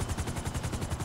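Rapid automatic gunfire in Grand Theft Auto V, a fast, even stream of sharp shots repeating about every tenth of a second through the whole moment, fairly loud with no talking over it.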